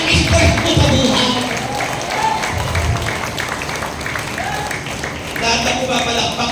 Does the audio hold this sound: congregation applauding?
yes